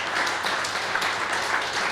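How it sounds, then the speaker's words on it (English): Audience applause fills a meeting room on fair housing in Pittsburgh, a dense, steady wash of many hands clapping at close range, sustained evenly with no voices rising above it. "So let's give him a big round of applause."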